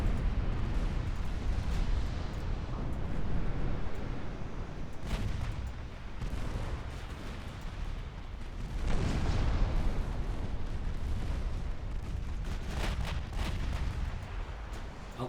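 Naval artillery firing in the warship battle game Ultimate Admiral Dreadnoughts, a continuous rumble of big guns with repeated heavy booms and blasts rolling through, loud and dense with no voices over it.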